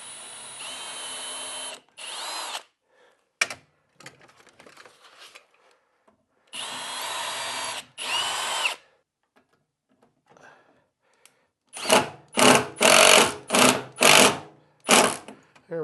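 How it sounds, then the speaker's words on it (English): A power drill bores a pilot hole in wood during an outfeed table build, with repeated close, loud whirring bursts and brief pauses, ending in a rapid series of short pulses. "what I'm going to do is just drill a pilot hole for that"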